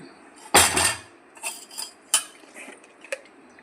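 Metal spoon clinking and scraping against a cooking pot while chilli powder, turmeric and rock salt are stirred in, with one loud clatter followed by several softer, separate knocks and taps.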